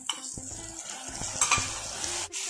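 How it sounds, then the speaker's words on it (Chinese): Hotpot base with bean paste, dried chilies, scallion, ginger and garlic is stir-fried in a wok, with a loud, close sizzle broken by repeated scraping and clanking strokes of the spatula. "靠边炒一下，"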